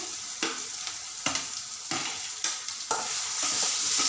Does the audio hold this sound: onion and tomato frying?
yes